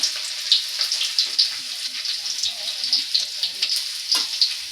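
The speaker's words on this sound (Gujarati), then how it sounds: "તો હવે વઘાર મારી દીધો છે લસણનો." Garlic tempering sizzles and crackles in hot oil while Manchurian is being cooked, with a steady close frying hiss broken by sharp pops and spatters throughout, and no talking.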